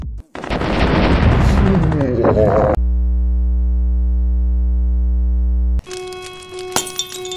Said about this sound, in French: Et bien sûr, des grosses explosions.